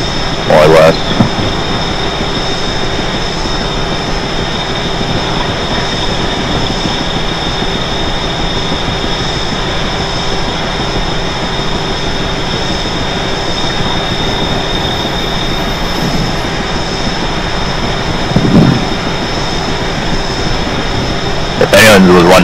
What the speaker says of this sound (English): I wish the train could go faster, but it really can't.